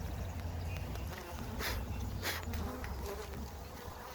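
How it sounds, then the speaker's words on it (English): Honey bees in a Two Bee Honey Hive Hotel hive, up in the honeycomb, make a continuous close buzzing drone with occasional louder passes and faint handling noises. "It looks like these bees are already right up in the honeycomb."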